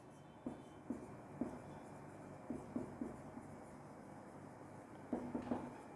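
Faint, short scratchy strokes of writing on a board during a chemistry lesson, arriving in small clusters over a quiet room hum.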